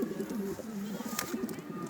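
A pigeon coos up close, soft repeated low throaty calls in a quiet setting, with faint background noise.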